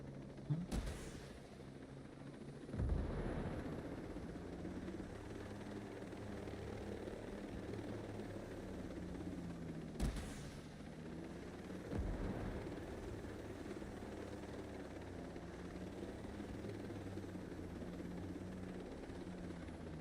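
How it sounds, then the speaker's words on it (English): Steady thrum of video game anti-tank helicopter rotors runs throughout, with two sharp bursts of gunfire cutting in near the start and again midway. "This is probably our ultimate anti-tank helicopter."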